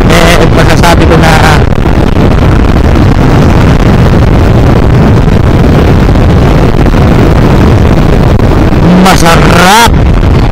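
A Samurai 155i motorcycle at speed gives a loud, continuous roar of engine and rushing wind that buffets the microphone throughout, with brief bursts of louder noise near the start and end.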